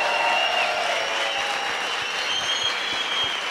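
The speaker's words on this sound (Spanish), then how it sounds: "Por eso quiero pedir un fuerte aplauso para el de las fotos." An audience at a club event applauds steadily and evenly for the whole stretch, a dense wash of clapping with no voices standing out.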